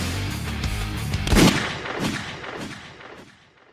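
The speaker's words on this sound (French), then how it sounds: "le mec il tire dessus" A single shotgun blast, a 12-gauge, cracks loudly and close, its boom rolling and decaying over a few seconds with no talk.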